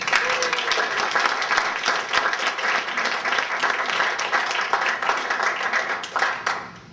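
An audience applauds to welcome speaker Dan Pelletier, with dense, loud, sustained clapping throughout that tapers off slightly at the very end.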